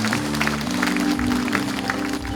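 Audience applause fills a hall during a military–civilian forum in Gunwi County, a dense, steady clapping that holds for the full stretch, with a low sustained tone, likely music, running underneath.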